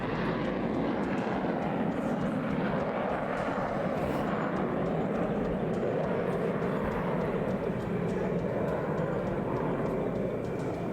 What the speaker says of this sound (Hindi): जब हिंदुस्तान के सुखोई ने भरी उड़ान